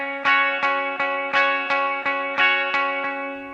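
An electric guitar plays a chorus riff, with about ten evenly spaced picked notes ringing through chorus and echo effects, played slowly and alone with no talking.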